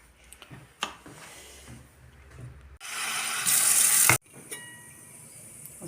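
Water poured into a pot of soup on a home stove, a brief rushing pour of about a second and a half with a hissing splash, set between quieter clinks and kitchen handling noises.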